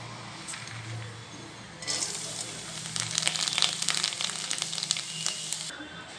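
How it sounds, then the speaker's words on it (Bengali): Lentils for chanachur fry in hot oil, giving a soft sizzle that swells into loud, crackling frying with stirring scrapes, then drops away near the end; a voice is faintly heard. "এবার দেখো বাকি ডালগুলো আমি ভেজে নিচ্ছি।"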